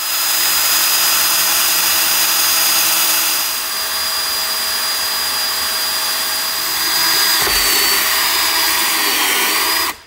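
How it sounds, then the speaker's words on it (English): Power drill boring small oil holes in an engine part from a 70-year-old London double-decker bus, a steady loud whine running continuously with a brief dip partway through, then stopping at the end. "Now we just need to drill the little oil holes"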